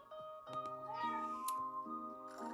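Oliver the cat meows repeatedly in a drawn-out, wavering voice, close and clear, with a few short sharp calls mixed among longer tonal cries.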